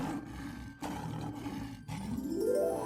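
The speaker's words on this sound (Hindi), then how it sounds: "अचानक गुफा की गहराई से दहाड़ गूंजी।" A deep, echoing lion roar rolls out from inside a cave in a cartoon story about a magic cave, with a huge golden lion. It sounds loud and sustained for about three seconds, rising into a sweeping tone at the end, with no voices.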